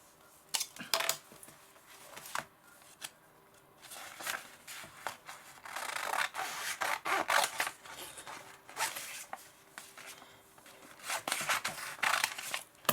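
Scissors snip through magazine paper for a collage, making close, crisp cutting strokes in irregular bursts with rustling of the page between them, and no voices.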